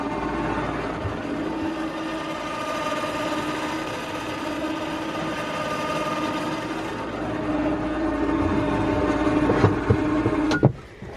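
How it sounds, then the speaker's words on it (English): A Cub Cadet Challenger MX 750 EPS utility vehicle's winch reels in, a steady mechanical whir over the idling engine that builds louder toward the end before stopping abruptly, with no talk. "Now we need to remember that we have our winch out still, so winch in is down here"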